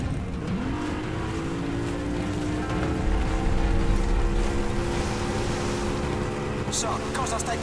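A steady, droning motorboat engine in Call of Duty Modern Warfare 2 Remastered, loud and continuous with a rising whine and rushing water, while a voice speaks over it.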